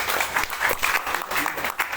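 Audience applause at a company gathering, brisk crowd clapping in a short burst, fairly close, with a voice speaking over it.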